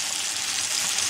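Smoked bacon lardons sizzle steadily in butter alongside browning apple pieces in a pan, a close, continuous crackling hiss with no pauses.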